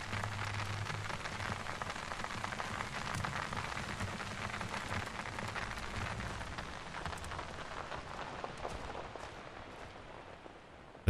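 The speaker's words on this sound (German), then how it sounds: "Das hagelt Steine." Hard stones hailing down in the horror video game Mundaun, a dense continuous patter of many small impacts like heavy rain on a surface, steady and fairly loud throughout with no talking.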